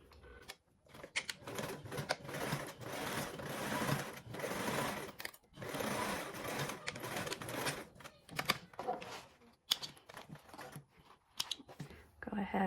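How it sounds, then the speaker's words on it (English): Sewing machine stitching a 3/8 seam, a close rapid mechanical whir that runs in several bursts with short pauses and a few clicks between them, faint overall. "I'm gonna sew with a 3/8 seam allowance."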